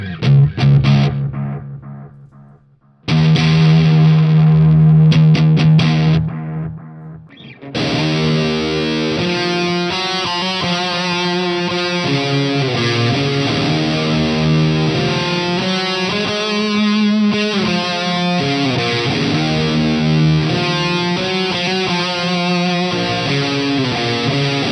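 An electric guitar plays through an Orange TH30 amp with heavy distortion, opening with a few held chords and then a sustained driving riff, loud and upfront with no voices.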